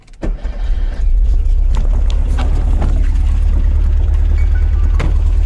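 A 1970 Volkswagen Karmann Ghia with a new dual exhaust and a failed compression test cranks briefly, catches, and settles into a loud, steady, close-up rumble.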